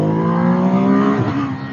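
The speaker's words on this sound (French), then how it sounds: "Maintenant, le petit test d'accélération et de bruit, bien sûr." A Ducati Hypermotard 950 motorcycle accelerates hard in a short, loud burst, its engine note climbing up close and then dipping near the end, as if changing gear.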